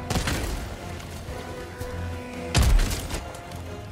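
A frag grenade blows up in Helldivers 2 during a solo fight against Automatons, one heavy booming blast about two-thirds through, set against a busy backdrop of distant gunfire and thuds.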